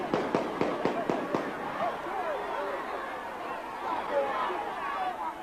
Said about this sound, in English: A victory for Tivoli, yet another excuse for gunfire.